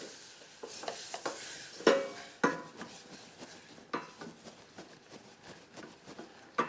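Milk, Carnation Light and Creamy, being added slowly and stirred into a flour-thickened white sauce in a pan, with steady scraping and clinking of utensil against the pan and a few sharper knocks, close and moderately quiet.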